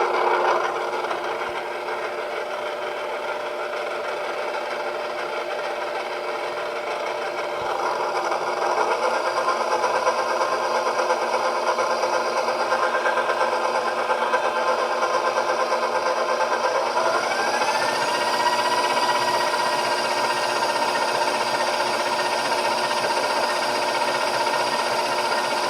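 A stand mixer churns a dough of home-milled flour, its motor giving a loud, continuous whir that shifts up in pitch partway through, with no talking.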